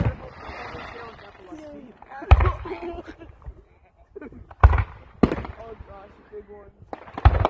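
Several sharp fireworks bangs burst at irregular intervals in Linden, loud and close, between stretches of people talking.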